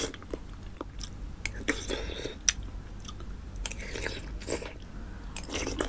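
Close, quiet chewing of egg with rice porridge, with soft moist bites and mouth sounds repeating irregularly and no talk.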